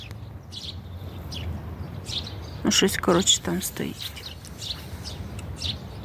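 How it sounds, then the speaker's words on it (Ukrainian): Birds chirp and sing in short bursts outdoors, with a person talking over them and a low background rumble. "Боже, як пташки співають."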